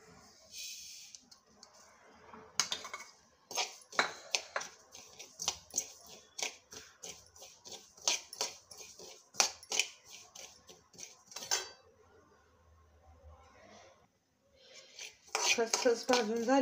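Poppy seeds roasting in a kadhai while a metal utensil repeatedly clinks and scrapes against the pan in quick, irregular strikes, with a louder rattling burst at the end.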